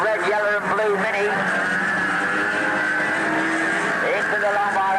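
Race cars at Ringwood Raceway in 1986, including a small red, yellow and blue Mini, roar past in a steady loud engine drone with shifting pitch, under continuous commentary.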